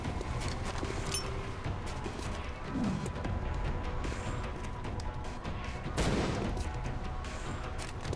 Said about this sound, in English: we'll have to flashbang him